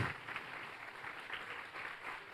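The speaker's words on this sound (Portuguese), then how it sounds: "aplaudindo bem forte ao Rei dos Reis" A church congregation at a Sunday service claps together in a soft, distant, steady wash of applause with no clear voices on top.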